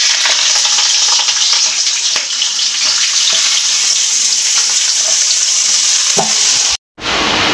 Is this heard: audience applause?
no